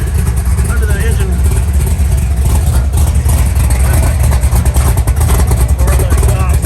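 Big block 468 V8 in a 1964 Chevrolet Impala two-door hardtop idling with its exhaust rumbling, loud and close, deep steady throb with slight rev fluctuations while someone talks over it.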